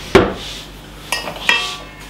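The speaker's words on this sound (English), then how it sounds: "So let me get my spatula out." A spatula is pulled out in a kitchen, giving three short metallic clinks and knocks with quiet pauses between them.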